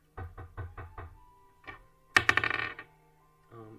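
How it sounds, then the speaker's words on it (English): Five quick, evenly spaced knocks sound on a door, followed by a clattering rattle and a faint muffled sound, all in a quiet room. "It's a decent enough knock."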